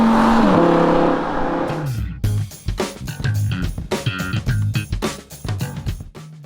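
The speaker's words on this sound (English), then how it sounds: "The V10 is one of the world's best engines." An Audi R8 LMX V10 engine idles, then revs hard in quick repeated bursts, loud and close, with sharp throttle blips and crackles.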